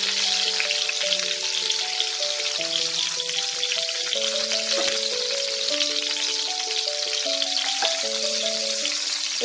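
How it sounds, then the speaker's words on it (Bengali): Pieces of parwal (potol, pointed gourd) fry in hot oil for a spicy Bengali doi potol, a steady close sizzle and crackle running throughout under soft background music. "এই পাশটাও আমি লাল করে ভেজে নেব।"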